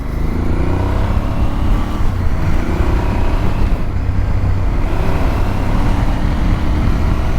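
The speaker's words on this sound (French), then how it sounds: "Le bruit est très agréable, on a légèrement des petits pop au niveau du pot lorsqu'on coupe les gaz" Aprilia Tuareg 660 midsize adventure motorcycle engine and exhaust under way, a steady, loud, close drone with constant wind rush and no speech.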